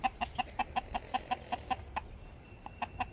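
Hens clucking in a steady, repeated rhythm, a short sharp cluck roughly every fifth of a second, close by with faint farmyard noise underneath.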